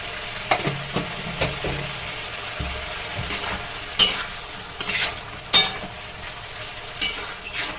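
Potatoes with turmeric and chilli powder are stirred in a hot pan, a scraping spatula clattering in sharp bursts over a steady, close sizzle with no voices.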